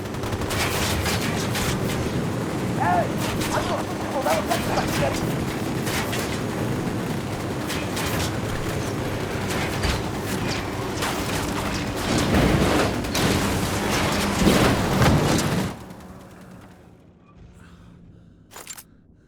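Sustained gunfire in Ghost Recon Wildlands, dense rapid shots and bursts from several weapons at close range, loud and continuous for about fifteen seconds before abruptly dropping to quiet ambience with a couple of faint later shots.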